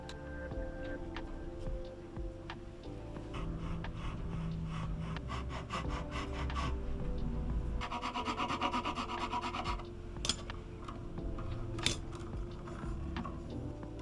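A new nut for a 60-year-old Teisco BS-101 bass being filed, with steady rasping strokes over a low hum. Faster bursts of scraping come in the middle, broken by occasional sharp taps.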